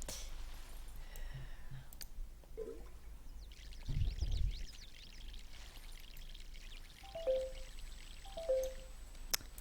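Plants are watered in the My Sims video game, giving a soft trickling pour with scattered clicks and small chimes from the game, all quiet and with no one talking.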